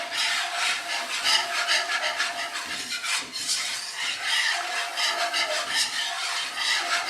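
Whisk scraping steadily through flour and melted butter in a skillet as a roux forms, a continuous close rasping rub with a quick rhythmic texture and no talking.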